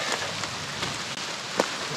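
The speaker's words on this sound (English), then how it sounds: "Rain is approaching." Steady rain patters on surfaces nearby at an old Florida homestead, a soft continuous hiss with a few distinct drops, no voices.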